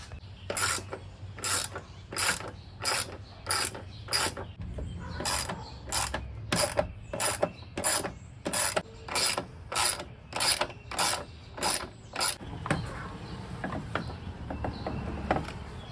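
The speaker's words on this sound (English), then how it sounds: "First thing we're going to do is remove those 3 bolts." A ratchet wrench backs out the headlight bolts on a Jeep Gladiator, giving a long series of rhythmic clicking ratchet bursts, evenly spaced and close, before ending in quieter rubbing handling noise.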